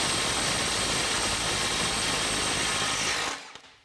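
A Milwaukee M12 FUEL Stubby 2554 impact wrench on a fresh 4.0 battery hammers loud and continuous for over three seconds, then cuts off abruptly with a brief rattle as it winds down.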